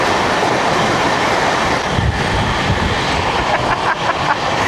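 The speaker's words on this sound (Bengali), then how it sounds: "কয়েক সেকেন্ডের মধ্যে বেরিয়ে গেল 22302 নিউ জলপাইগুড়ি হাওড়া বন্দে ভারত।" The 22302 New Jalpaiguri–Howrah Vande Bharat train rushes past a moving train, heard up close. A loud, continuous rumble of wheels and carriages carries a few rattling clicks toward the end.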